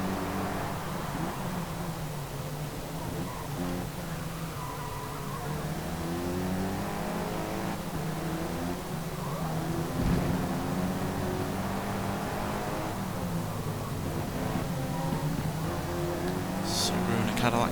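A Cadillac sedan race car in Forza Motorsport accelerates hard through traffic, its engine droning and rising in pitch steadily throughout, with a voice talking over it.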